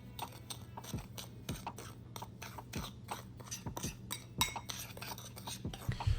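A dry rub of salt, pepper, paprika, garlic powder and onion powder being mixed for smoked chuck roast: quiet, close scraping and rasping strokes in an irregular rhythm, with faint clinks of a utensil against a bowl, and no talking.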